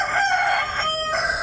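Chickens at a home yard with a rooster crowing loudly and close, a drawn-out crow sustained across the whole moment with clucking hens around it.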